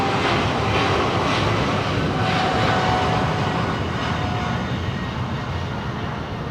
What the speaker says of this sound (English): That's a big plane.